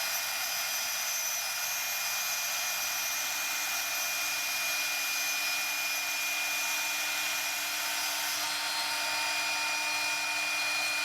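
A CNC router pocketing with a cheap router bit at a raised feed rate, giving a steady, loud high-pitched whine with a constant tone and broadband cutting hiss that runs unbroken throughout.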